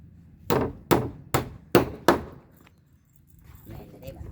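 Nails are hammered during construction of a house in Thailand: five sharp, evenly spaced blows land in quick succession, loud and close, followed by quieter sounds and people speaking.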